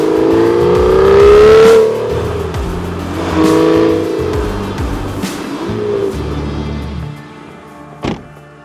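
An Aston Martin Virage V12 drives close by, its engine note rising through a loud rev, easing, then climbing again through several gear changes before fading, with a brief sharp knock near the end.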